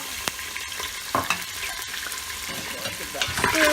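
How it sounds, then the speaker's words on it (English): Diced potatoes sauté in hot oil inside an Instant Pot for a curry, giving a steady broadband sizzle with a few sharp spatula scrapes and clicks against the metal insert, fairly close and continuous, no voices. "Now you can tell the oil's nice and hot. So I'm going to add some of the pre-cut vegetables that I think should be sauteed a little bit"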